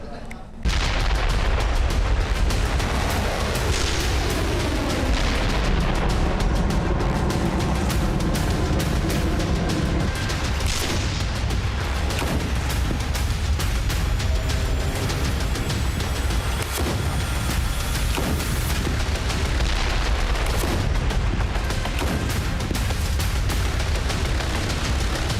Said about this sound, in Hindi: आग उगलती तोपें, दिन रात गरजते टैंक, फाइटर जेट से बरसते बम,